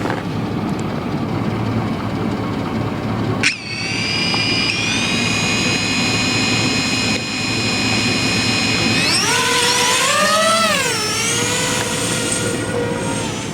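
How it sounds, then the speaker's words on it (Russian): An FPV drone filming an icebreaker at -37 degrees whines at a high, steady pitch and then swoops sharply up and down as it climbs and maneuvers, loud and close throughout. "FPV-дрон взлетел"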